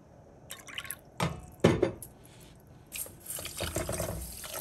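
Water splashes and trickles into sugar in a container in a few short bursts, close by, with small drips in between and no voices.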